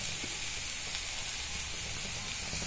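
Chopped pieces sizzle and fry in a pan on a stove with a steady, even hiss that stays quiet and constant throughout, with no voices.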